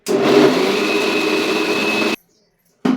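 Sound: mixer grinder grinding soaked wheat with a little water

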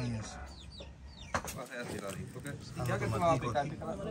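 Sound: hen clucking near guinea fowl

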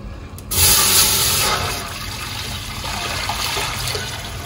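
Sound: water poured into a cooking pot for rice

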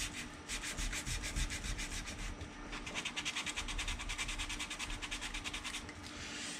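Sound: sanding a model kit part by hand

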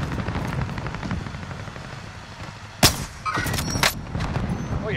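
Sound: gunfire in Call of Duty: Modern Warfare video game

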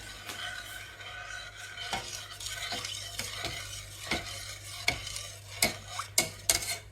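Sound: stirring milk into sauce for lasagna

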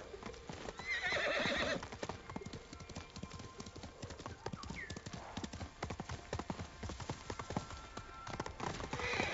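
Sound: horse galloping and neighing in video game Ghost of Tsushima

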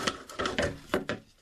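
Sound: hacksaw cutting plastic sump pit nipple

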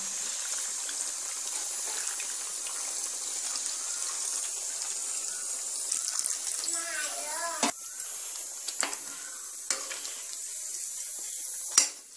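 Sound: water pouring into cooking pot

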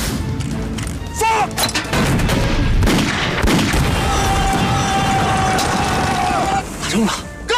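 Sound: artillery cannon firing a shell in a film

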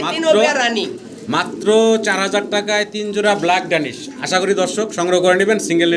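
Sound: Lakha pigeons cooing

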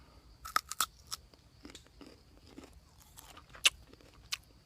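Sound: biting and chewing a wild Isan fruit

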